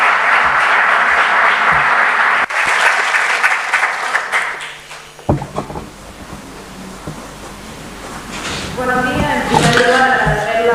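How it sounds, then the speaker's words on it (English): Audience at a housing sustainability conference applauds to welcome a speaker, a loud sustained wash of clapping that fades out, followed by thumps and then a voice beginning to speak. "let's welcome her with a warm round of applause"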